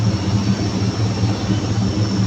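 An aircraft at an airport gives off a steady, loud engine roar with a low drone and a high whine, continuous and close, with no voices.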